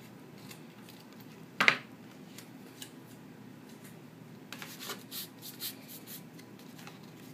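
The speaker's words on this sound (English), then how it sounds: "I'm going to cut off my extra." Paper is trimmed with scissors while assembling a handmade box invitation: one sharp snip stands out, followed by quieter, scattered cutting and rustling close by.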